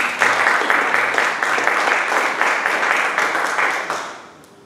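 Sustained audience applause fills a gathering at an Israeli Air Force house, many hands clapping loudly and densely for several seconds before tapering off at the end.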